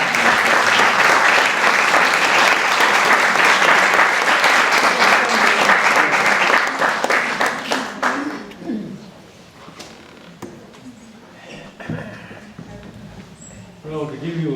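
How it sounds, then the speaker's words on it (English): An audience at a local history speaker series lecture breaks into loud, sustained applause that lasts around eight seconds before tapering off, followed by a quieter room with a few scattered sounds and a voice. "A round of applause."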